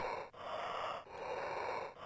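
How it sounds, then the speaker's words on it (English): Heavy breathing used as the soundtrack of the Amiga game Jaws: a steady, loud, hissing breath that runs continuously, with brief dips at each turn between inhale and exhale. "all you get is a heavy breathing phone call as the soundtrack"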